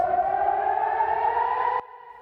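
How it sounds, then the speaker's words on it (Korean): An air raid siren wails during an attack on Israel, a single steady tone that slowly rises in pitch before cutting off abruptly, leaving a fainter tone behind. "곳곳에서 공습 경보 사이렌이 울립니다."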